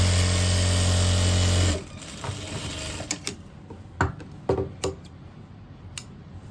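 Sewing machine stitching a pant seam runs in one loud, steady, close burst for nearly two seconds, then stops, leaving scattered clicks and handling taps of fabric and machine.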